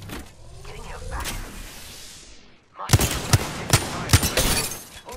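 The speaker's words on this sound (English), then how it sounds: "Opening fire on the enemy." Gunfire in the video game Apex Legends, a few sharp, loud shots and short bursts in quick succession, preceded by a whooshing, mechanical in-game sound and ambient noise.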